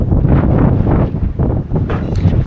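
Gusty wind buffets the microphone at a waterfront caravan park site, loud low rumbling in uneven surges that rise and fall.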